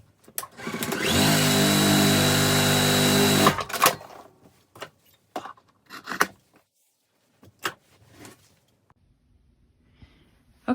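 A sewing machine top stitching along the edge of a fabric zipper pouch, one steady whirring run of about three and a half seconds, close and loud, followed by quiet handling clicks and rustles of fabric.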